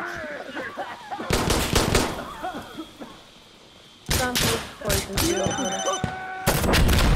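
Loud, close gunshots in the video game Insurgency: Sandstorm, including rapid automatic bursts from an MP5, come in dense clusters separated by a quieter pause with scattered game sounds.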